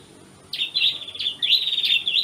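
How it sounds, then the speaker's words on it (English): Birds chirp outdoors in central Lombok, Indonesia, a series of bright, fairly close tweeting phrases in quick bursts over a quiet background, with no talking. "The birds sound so nice right now."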